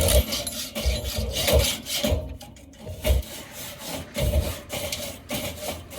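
A metal grill grate is scraped clean after cooking beef fajitas, giving rhythmic rasping strokes with dull knocks, close up and moderately loud, with no talking.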